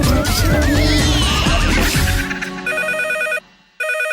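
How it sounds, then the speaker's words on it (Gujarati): A telephone rings in a Gujarati radio comedy skit on Radio City 91.1. A dense, noisy burst of mixed sound gives way to two loud bursts of a bright electronic trilling ring, separated by a short silence. "ફોન આવ્યો કાકા."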